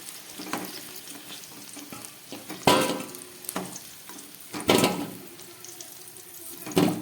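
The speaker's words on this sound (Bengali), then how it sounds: "আলুগুলো আমার ভাজা হয়ে গেছে। এবার আমি এগুলোকে তুলে ফেলবো।" Potatoes frying in oil in a home kitchen give a steady crackling sizzle, broken by several louder bursts of scraping and stirring as a utensil works through the pan, close and prominent with no talking.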